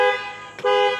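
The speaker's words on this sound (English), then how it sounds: "the alarm's going off." Alarm on a brand-new 2024 Ford F450 with the 6.7 engine sounding as a steady, loud horn-like tone with stacked harmonics, briefly interrupted once by a short break before resuming at full strength.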